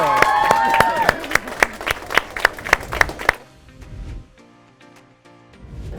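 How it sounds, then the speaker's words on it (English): An audience applauds at an awards ceremony celebrating achievement. Sharp, loud clapping carries over a faint musical tone for about three seconds, then cuts away to a much quieter stretch of soft tones. "let's give her another huge round of applause"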